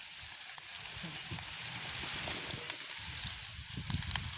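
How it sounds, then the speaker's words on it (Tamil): Onions and green chilies fry in a pan in a village kitchen, giving a steady close sizzle with occasional soft stirring bumps. "இப்போ வெங்காயம் பச்சை மிளகாய் எல்லாம் வதங்கிட்டு"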